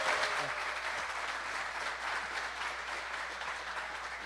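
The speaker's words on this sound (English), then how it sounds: "So let's give them a big round of applause." An audience at the Chicago Yacht Club Race to Mackinac skipper's meeting claps in sustained, moderately distant applause that holds steady for several seconds.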